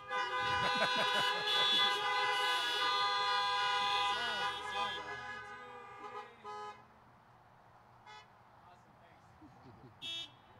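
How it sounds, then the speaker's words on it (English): Car horns honking wildly at an outdoor graduation ceremony, several overlapping sustained toots and blasts at first, then fading to a few scattered short honks near the end. "Okay, wild honking is now appropriate."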